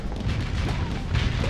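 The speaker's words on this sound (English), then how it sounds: "Fire the missiles" Missiles launch in a Starsector battlecruiser space battle, a dense continuous low rumble of launches and blasts with no pause, loud and close throughout.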